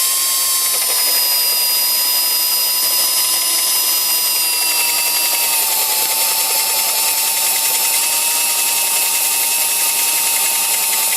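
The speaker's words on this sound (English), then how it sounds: "now we're going to just go ahead and drill into it and see how this thing performs" A Fein ABSU12 cordless drill bores into hardwood with a steady, high-pitched whine that holds nearly constant for about eleven seconds, close and loud, with only a slight dip in pitch midway.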